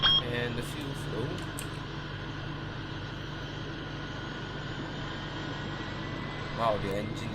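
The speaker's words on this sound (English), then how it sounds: "That engine start was quite fast." A simulated Boeing 777 engine starts up in the X-Plane 11 flight simulator, giving a steady, moderate mechanical drone that holds evenly throughout with faint beeps at the start.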